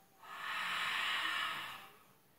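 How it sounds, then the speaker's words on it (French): A long throat-constricted exhalation during a Pilates breathing exercise, a soft steady hissing breath that swells and fades over about two seconds, close and alone. "À l'expiration, je viens faire ici une respiration par la gorge."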